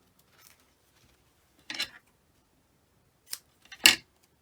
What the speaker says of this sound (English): keep forgetting it's a glass mat and it's loud when I drop my scissors